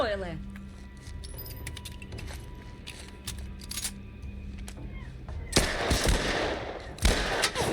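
Rapid bursts of gunfire crackle in the video game The Last of Us Part I over a steady background, with a voice speaking Ukrainian now and then and louder shots near the end.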